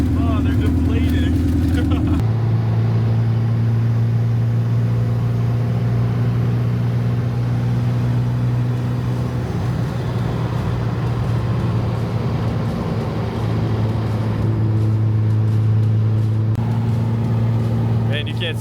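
Loud, steady car interior drone during a long road trip in a racecar, with a strong low engine hum and road rumble throughout and a shift in pitch partway, while people talk faintly over it.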